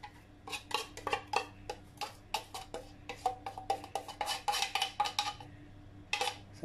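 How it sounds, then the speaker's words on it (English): A spoon scraping condensed milk out of an old metal tin, a quick irregular series of clinking, scratching strokes against the metal, fairly close and clear with no voices. "And my condensed milk, old tin. I'll be throwing in here. Just scrape everything out."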